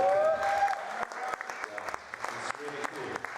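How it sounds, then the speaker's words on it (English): A theatre audience claps, a loud burst of applause that thins into scattered claps while someone talks over it. "While you're clapping hands"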